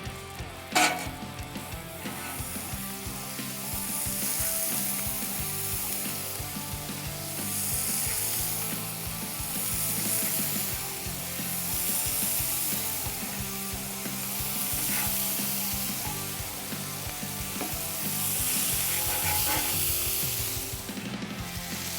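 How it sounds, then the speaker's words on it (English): Bacon wrapped asparagus sizzling in butter on a griddle, a steady loud hiss of frying with occasional scrapes and clinks of utensils, close and continuous with no talking. "let's just place these down on top of the griddle."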